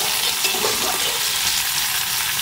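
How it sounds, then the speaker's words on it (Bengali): Three finely chopped onions fry gently in oil, giving a dense, even sizzle with occasional soft stirring sounds, close and steady throughout. "পেঁয়াজটা খুব বেশি ভাজবো না, হালকা করে ভেজে নেব।"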